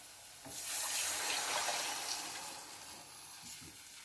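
Roughly two glasses of water pour into a cooking pot of okra stew, a close, rushing splash that swells quickly, holds for about two seconds and tapers off.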